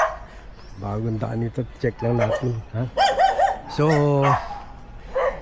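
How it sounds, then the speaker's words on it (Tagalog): Several dogs barking along a new road, their yelping calls rising in short bursts among a speaking voice, with some rooster-like calls mixed in. "So andyan na nga, maraming aso."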